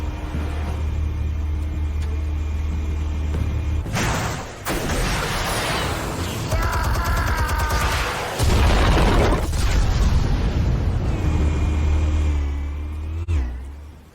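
Armed explosives being fired in a game, heavy booming blasts and deep rumbling bursts layered over a continuous low engine-like drone, loud and close, with sharp impacts near the middle.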